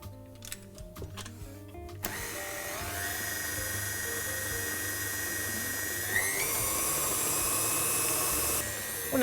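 Stand mixer running steadily with a paddle attachment beating buttercream, a continuous motor whine with a slight shift in pitch partway through, no talking.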